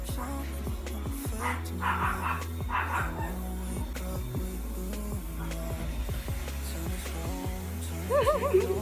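Several dogs bark repeatedly indoors in a series of sharp, close yaps and woofs, with a brief whimpering whine near the end.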